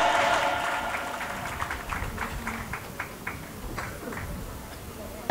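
A crowd at a women's political rally in Airoli claps steadily and loudly, a dense sustained applause that gradually thins out toward the end.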